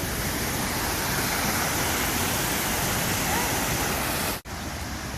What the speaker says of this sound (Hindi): ये ज़रा वाटरफॉल के थोड़ा सा करीब से, ये जी माशाल्लाह ज़बरदस्त मंज़र पेश कर रहा है